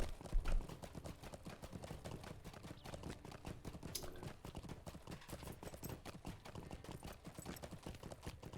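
Horse hooves clip-clop in a steady, fast gallop rhythm in the online game Lord of the Rings Online (LOTRO), loud and continuous with no speech.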